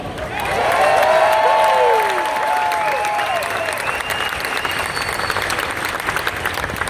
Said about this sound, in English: let's all cheer for Bobby